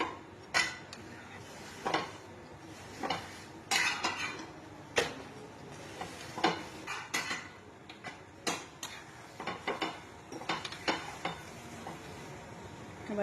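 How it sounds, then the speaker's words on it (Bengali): A pot of chicken kofta curry being handled and covered, with sharp metallic clinks and clatters of utensils and a lid against cookware over a low simmering sizzle, intermittent knocks spread across the stretch, no talk. "এবার ঢাকা দিয়ে দেবো।"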